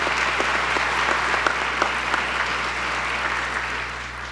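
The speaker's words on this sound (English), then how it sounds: "Give them a round of applause if they're not here." Steady, dense applause from an audience at a police swearing-in and promotions ceremony fills the room at an even level, with scattered sharper claps standing out throughout.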